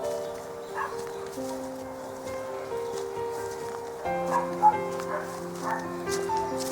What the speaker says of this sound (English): And dogs.